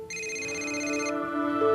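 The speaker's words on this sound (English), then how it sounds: "Your phone's ringing." An electronic phone ringtone plays steadily, a bright tonal melody with a high shimmer that cuts off partway, continuing lower.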